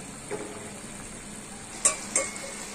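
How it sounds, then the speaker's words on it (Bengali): Noodles frying with egg in a pan, a steady low sizzle under faint stirring, broken near the end by two sharp clinks of a utensil against the pan. "আরফা নুডলসটা একটু নাড়িয়ে দিচ্ছে"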